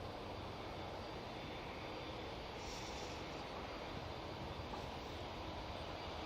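An EasyJet airliner rolls along the runway at Manchester Airport, producing a steady, distant jet-engine roar that continues unbroken throughout.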